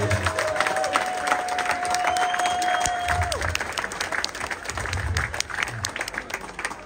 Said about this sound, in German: Und das ist einen Applaus wert, meine Damen und Herren.